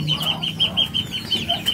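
Chickens and young chicks on a village farm in Demak cluck and cheep busily while being fed, a steady close chorus of short repeated peeps over low clucking, with no talk.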